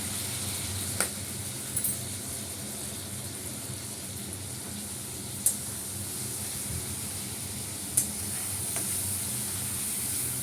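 Ginger paste sizzling in a hot pan, an even, continuous frying hiss near the microphone, broken by a few soft clicks and taps of a utensil.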